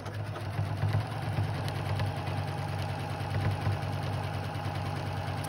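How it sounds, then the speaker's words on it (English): A Janome MC 6700P sewing machine runs a serpentine stitch, a steady close mechanical hum with fast rhythmic needle chatter for several seconds, with no talking. "Then it's my serpentine stitch."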